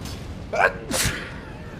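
A single short, sharp sneeze bursts out during an Elden Ring gaming session, close to the microphone, just after a brief voiced sound and a spoken word.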